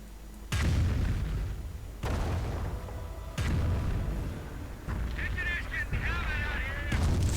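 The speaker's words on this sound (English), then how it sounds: "More Nebelwerfer fire." Nebelwerfer rocket artillery fire in a WWII strategy video game: a series of heavy booming launches and blasts at intervals of a second or two, each followed by rumbling decay, with a wailing screech layered over the later impacts.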